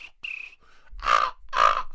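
A voice imitates crow caws: a few thin cries, then two louder, harsh caws drenched in heavy reverb.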